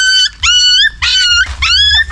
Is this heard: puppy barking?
yes